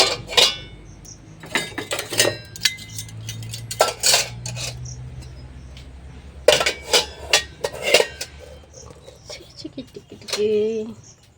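Metal utensils, pots and plates being put away in a home kitchen, with repeated clattering clinks and knocks in irregular bursts, fairly close.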